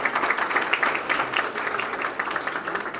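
Applause from the crowd at a birthday song launch event fills the room, a sustained, even patter of many hands clapping at a moderate distance, with no talk over it.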